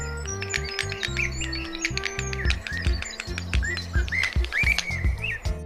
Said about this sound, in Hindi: कुकू को हिंदी में कोयल कहते हैं। इसकी आवाज बहुत मधुर